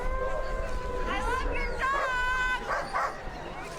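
Iditarod sled dogs at the 2020 finish line, yipping, whimpering and barking in a steady overlapping chorus under crowd babble and nearby talk.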